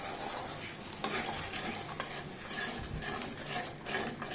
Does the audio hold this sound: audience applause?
no